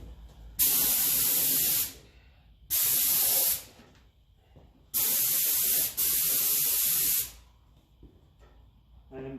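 Aerosol spray paint going onto Massey Ferguson 35 tractor parts for a first coat: three loud, sustained hissing bursts of one to two seconds each, separated by short quiet gaps.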